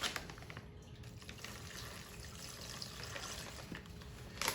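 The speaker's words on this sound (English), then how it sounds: "let's go ahead and pour our brine into the bag" Brine trickles and pours into a sous vide bag holding pork spare ribs, a soft, close liquid flow with a faint rustle of plastic.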